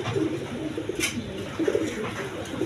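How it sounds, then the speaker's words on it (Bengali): A pair of rain pigeons coo nearby in soft, repeated low burbling phrases, with rustling and faint background noise around them. "দর্শকবৃন্দ এইখানে এক পেয়ার কবুতর আছে, রেইন কবুতর দেখেন"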